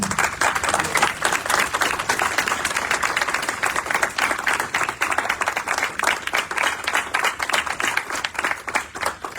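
Audience applause after a poetry reading, dense and steady claps filling the whole stretch at close range, no voices over it.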